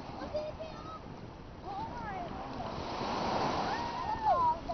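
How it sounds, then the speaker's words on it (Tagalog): Strong sea waves surge and wash along a shore in Bataan, a continuous rolling roar that swells louder toward the end while voices chatter in the background. "Lakas ng alon."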